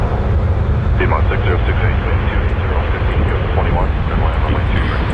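An airplane roars on a busy runway at Toronto Pearson airport, a loud, steady broadband engine rumble held throughout with faint voices in the background.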